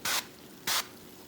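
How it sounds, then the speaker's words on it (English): Two short hissing bursts of canola oil cooking spray, close and separated by a brief pause. "Now I'm gonna give it just a little spray of canola oil."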